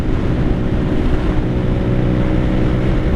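A 2017 Honda CBR 125R with about 15k miles, its engine droning steadily while ridden, mixed with heavy wind rush and no talking.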